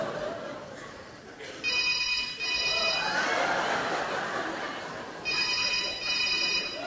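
Electronic telephone ring tone sounding in repeated bursts on an outgoing call, each burst a steady bright trill, with a voice speaking faintly in the background between rings.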